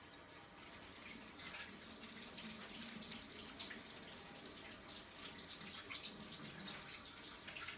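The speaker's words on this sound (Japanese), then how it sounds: "手洗い から始めよう" Hands are washed under a running tap, with a steady, quiet, close hiss and splash of water that runs without a break and no talk.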